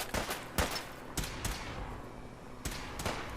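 Gunfire in the video game Fallout 4: several sharp shots spaced out over a few seconds, each a short burst with a brief tail, close and fairly loud, no talk.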